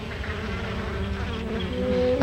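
A honeybee swarm gathered on a branch or tree, buzzing in a steady, dense drone that swells slightly louder toward the end, with no voices.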